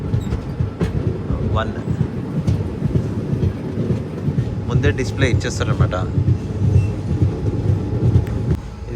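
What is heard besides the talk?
Narsapur Express train moving onto platform 1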